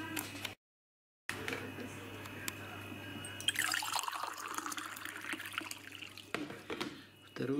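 Water is poured into a glass jar of blackcurrant wine must, a steady trickle and splash at close range, with a brief gap and someone talking quietly now and then.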